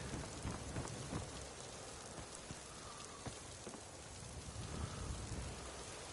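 Steady, dense rainfall in the video game Skyrim VR hisses continuously with scattered droplet patter, no voices, an even wash of sound throughout.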